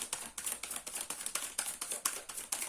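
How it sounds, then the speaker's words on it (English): An old, worn tarot deck being shuffled, a rapid run of soft papery riffling clicks in a quick, regular rhythm, close and fairly quiet. "I always have to shuffle like that."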